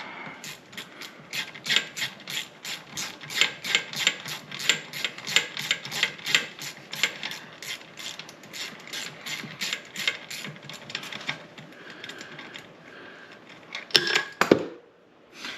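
A ratchet wrench turns a socket on a Mercury outboard motor, giving a rapid, regular series of close metallic clicks for most of the clip before stopping, followed by a short clatter and rustle.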